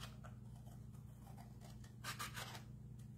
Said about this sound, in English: All right, with my paper cutting scissors, not my fabric scissors, trust me, huge difference.